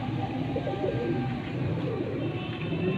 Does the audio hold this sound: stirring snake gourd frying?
no